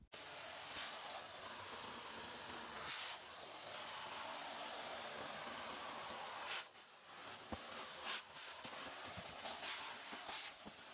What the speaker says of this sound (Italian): Adesso bisogna togliere appunto tutta la sporcizia con l'aspirapolvere